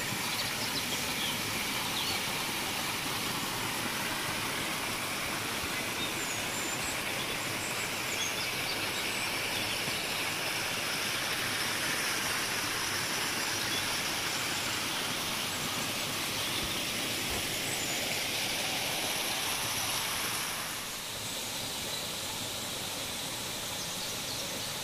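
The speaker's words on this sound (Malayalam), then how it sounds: "നല്ല കിളികളുടെ സൗണ്ടും വെള്ളത്തിൻ്റെ സൗണ്ടും" A small stream below a play area at a Lakkidi village resort in Wayanad flows with a steady, broad rushing wash that fills the whole clip, while faint bird chirps sit far back in the background.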